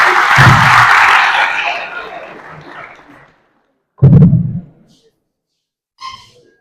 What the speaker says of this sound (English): please can you give a round of applause for yourself